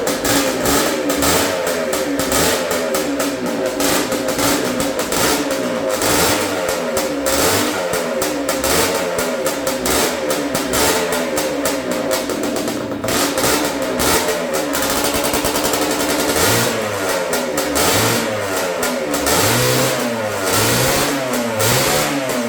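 A turbocharged two-stroke Yamaha Blaster ATV engine on its first start, running loud and steady with a rough buzzing drone and repeated throttle blips that fail to climb much.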